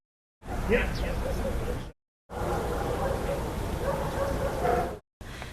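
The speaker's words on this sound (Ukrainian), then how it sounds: "Допомагала йому вірний помічник собака Ельбрус." A dog barks and yips in a few bursts during rescue training on defending against a dog attack, heard under ongoing talk.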